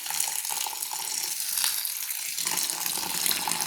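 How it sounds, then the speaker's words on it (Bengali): Tap water pours steadily over flattened rice (chira) being washed in a bowl, a close, continuous splashing rush. "এইভাবে জল দিয়ে দিলাম, নর্মাল জল দিয়ে আমি ধুয়ে নিচ্ছি"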